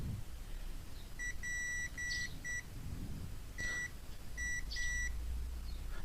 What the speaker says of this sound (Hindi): ये इंडक्टर बीप की आवाज़ देती है